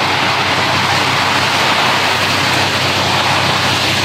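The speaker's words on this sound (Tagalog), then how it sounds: "Lakas ng ulan." Loud, steady downpour of typhoon rain with a constant broadband hiss and roar and no pauses, heavy rain drumming nearby with nothing else standing out.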